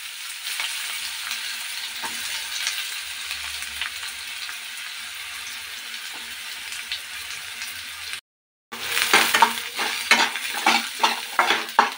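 Chopped onions fry in hot oil with mustard seeds, sizzling steadily with occasional stirring scrapes; after a brief gap, the sizzle returns louder and more crackly, with spoon strokes clattering against the pan.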